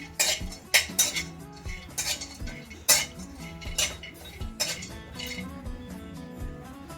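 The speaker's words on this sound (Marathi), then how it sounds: "कढईमध्ये थोडंसं खोबरं पण भाजून घेऊया" A spatula scrapes and clinks against a kadhai in irregular strokes, close up, as coconut is stirred and roasted until reddish.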